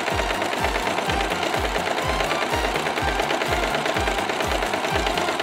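Sewing machine stitching bag straps together for a homemade carrying bag, a steady rapid mechanical needle chatter with regular low thumps, loud and close throughout with no talking.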